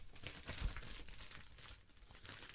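Packaging for a Logitech backup camera crinkles and rustles as someone struggles to rip it open, a faint, close, continuous plastic crackle with a slightly louder burst near the start.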